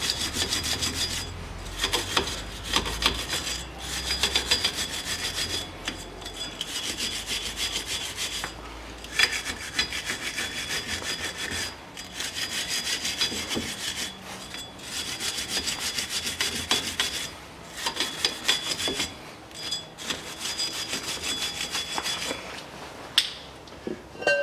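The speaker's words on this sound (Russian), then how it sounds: "Берем щетку по металлу и вот это место здесь по кругу" A metal wire brush scrubs around the hub of the rear drum brake on a 2000 Toyota Noah, a rhythmic rasping, scraping stroke repeated close up for a long stretch, with brief pauses between passes and no talking.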